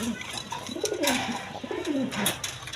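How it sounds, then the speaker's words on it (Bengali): A red Gola pigeon coos close by in repeated throaty, rolling calls, with faint background noise. "কবুতরটা কীরকম ডাকা ডাকে দেখেন"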